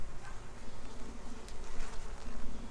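Honeybees swarm and hum around an open hive frame full of fresh nectar, a steady close buzzing drone with individual bees passing near, no talking.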